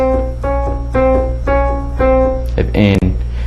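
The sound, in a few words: piano playing a minor second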